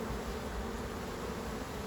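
Honeybees from a recently swarmed colony crawl over comb frames in a city farm hive, giving a close, steady buzzing hum that stays even and unbroken throughout.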